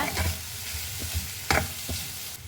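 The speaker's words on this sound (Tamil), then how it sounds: "சேர்த்துட்டு நல்லா கலரி விட்டுக்கோங்க" A spoon stirs a grated egg mixture in a pan, scraping and clinking in a steady close-up rhythm with a faint sizzle underneath.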